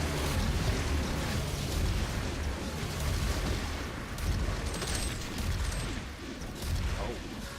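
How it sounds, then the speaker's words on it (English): Rocket launcher blasts in the Doom game, a dense, continuous barrage of rumbling explosions that swells and overlaps across the whole stretch, loud and heavy in the low end. "Does that do twice as many explosions on impact, then?"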